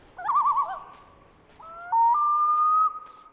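A loon calls in the wilderness of GTA 5, a wavering tremolo followed by a long rising, sustained wail, clear and alone over a hushed night background.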